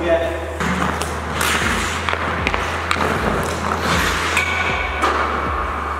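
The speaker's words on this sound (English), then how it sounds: "Going bar down every other shot." A hockey puck shot with a wooden stick strikes the metal crossbar in a string of sharp, ringing thuds, roughly one every second, loud and close over a constant low hum.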